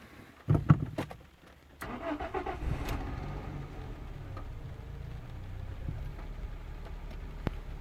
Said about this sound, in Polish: I pierwsze odpalenie.